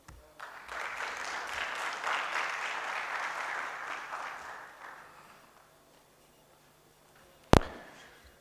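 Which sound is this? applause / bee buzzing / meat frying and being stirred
applause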